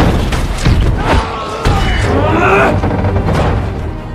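Dense, loud bursts of booming impacts and rapid gunfire-like cracks from an aircraft attack in a Transformers film, continuous and chaotic, with a voice mixed into the din.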